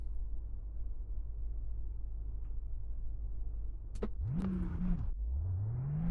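Virtual car engine in the Assetto Corsa racing sim, set up for drifting: a steady low rumble, then revs climb sharply, hold, drop and rise again in a loud, close run with no talk.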